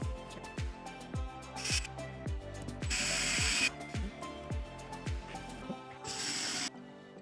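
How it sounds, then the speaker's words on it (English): A drill drives pieces into a wooden activity board in short whirring bursts, set among a series of regular low knocks and thumps at close range. "we were finally able to start drilling our pieces into the board"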